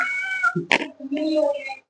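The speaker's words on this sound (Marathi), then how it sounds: "फोडणीचा वास आला ना मांजर येते इथे" A cat meows close up, a couple of drawn-out wavering cries with a brief sharp burst between them, a person's voice mixed in.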